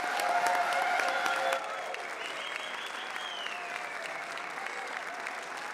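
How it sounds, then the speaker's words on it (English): An audience at a graduation ceremony applauds the graduates, with dense sustained clapping that is loudest at first and then settles to a steady, slightly softer level, with faint crowd voices underneath. "let's have one last round of applause and congratulate these graduates"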